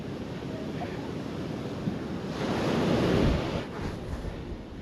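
Ocean waves at Playa Las Peñitas beach in Nicaragua wash up with a broad, steady roar, swelling louder midway as a wave rushes close, then receding, with light wind noise on the microphone.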